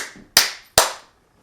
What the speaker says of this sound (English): I'm gonna clap here.